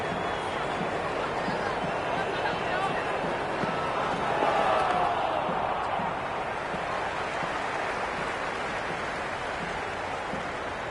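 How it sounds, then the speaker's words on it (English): Stadium crowd in the cricket video game Cricket 26, a dense continuous roar of many voices that swells briefly midway, with commentary speech over it. "There's an almost tangible fervour throughout the crowd at the moment."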